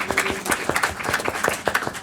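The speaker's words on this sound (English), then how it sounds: "a huge round of applause for all of our speakers" Sparse clapping from a modest forum audience thanking speakers, individual claps distinct and fairly close, rhythmic and thin rather than a full roar.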